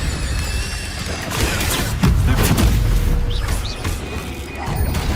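Spells are cast in the Hogwarts Legacy video game, a run of booming, crashing magical impacts and whooshes layered over a busy background, fairly loud and close, with no talk.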